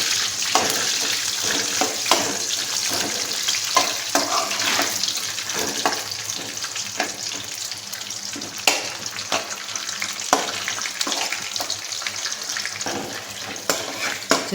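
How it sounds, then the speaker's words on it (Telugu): Peanuts, lightly roasted earlier, fry again in hot oil alongside green chillies, giving a steady close hiss with soft stirring scrapes throughout and no voices. "ముందుగా కొంచెం లైట్గా వేయించి పెట్టిన పల్లీలు మళ్ళీ దీనిలో నూనెలో వేయించుకుందామండి"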